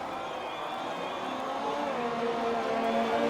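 Race cars in a Spain qualifying session of a racing video game, a Ferrari among them, drone steadily with a rising engine whine that swells slightly louder toward the end, no talk over it.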